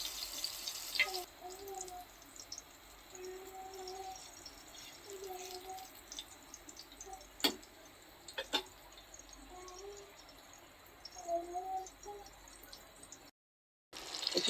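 Eggplant slices frying in hot oil give a faint, steady sizzling hiss throughout, with a few brief clinks. Soft voices are heard now and then.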